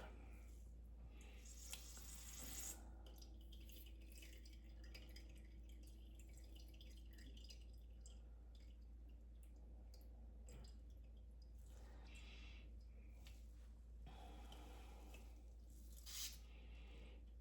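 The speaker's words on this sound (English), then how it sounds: "And so now I'm squeezing, but it's only dripping a little bit." Elderberries being squeezed by hand for homemade syrup, juice dripping slowly with soft wet squishing and occasional drips, close and quiet, without talk.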